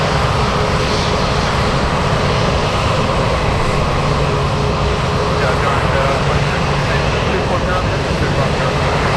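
Aircraft taking off at Anchorage airport, a steady broad engine roar that stays loud and constant throughout, with a voice talking over it.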